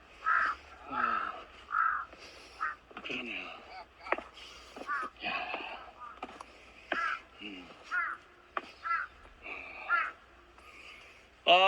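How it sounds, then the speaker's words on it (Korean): Crows waiting for handouts from hikers on Gwanaksan mountain give repeated harsh caws at moderate distance, interspersed between people chatting nearby. "등산객들이 먹이를 주니까 거기서 대기하고 있네요. 까마귀가."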